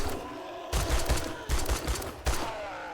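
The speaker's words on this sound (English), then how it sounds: "I might just gun him down, because he's got so much fucking health." Gunfire in the 7 Days To Die video game, three sharp bursts of rapid shots separated by brief gaps, loud and close.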